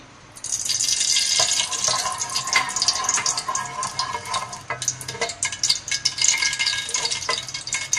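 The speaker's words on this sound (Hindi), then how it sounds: "अब इसके बाद हम एक पतीली में हम तेल डालेंगे, हम घी डालेंगे।" Oil and ghee going into a cooking pot, giving a continuous close hissing, sizzling wash with scattered clinks and stirring noises, steady and fairly loud, with no talk.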